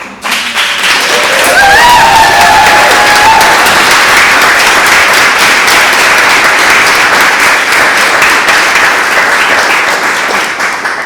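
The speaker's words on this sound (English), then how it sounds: "Thank you for the applause" Sustained applause from a large audience at an environmental justice lecture, loud and dense from about a second in and holding steady to the end, with faint voices and whoops in the crowd.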